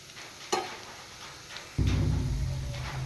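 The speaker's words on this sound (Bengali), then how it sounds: "একটু ভাজা করব রসুনটা" Grated garlic frying in oil in a pan, a soft background sizzle with a sharp utensil knock early on, then the frying swells into a louder, fuller crackle for the final second, close by with no talking.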